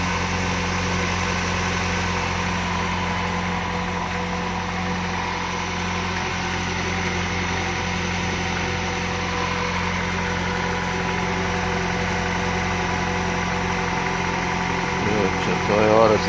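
A 2019 Nissan Rogue 2.5 engine idles steadily with a low, even hum and faint vibration, running close and unchanged throughout, with a small disturbance near the end.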